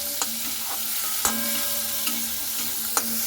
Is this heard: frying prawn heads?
yes